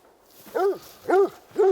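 Three evenly spaced barks from a hunting dog in theHunter: Call of the Wild video game, each short and clear, with near silence between them.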